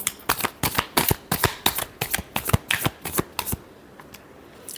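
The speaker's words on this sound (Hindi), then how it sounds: "last shuffle" Tarot cards are riffled in a quick, close run of about fifteen crisp flicks, loud and dry, ending in a short quiet tail.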